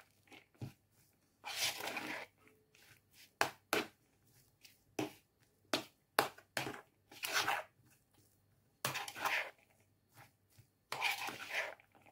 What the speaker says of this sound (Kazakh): Енді жақсылап араластырып аламыз.